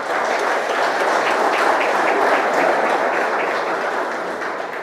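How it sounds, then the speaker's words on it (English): Audience applause at a corporate awards ceremony, the TFL Strategic and Business Excellence Awards in Fiji: a dense, steady wash of many hands clapping, sustained and loud throughout before easing slightly at the end. "I thought I would have to say, please give a round of applause, but I'm glad you recognize it"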